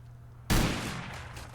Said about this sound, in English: And more rockets, guys, are going off.